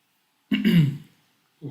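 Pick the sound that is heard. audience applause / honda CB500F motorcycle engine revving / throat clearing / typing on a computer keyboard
throat clearing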